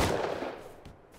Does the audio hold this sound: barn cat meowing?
no